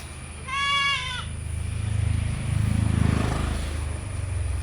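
A crossbred goat kid gives one short, quavering bleat near the start, followed by a low steady rumble of a distant aircraft or engine.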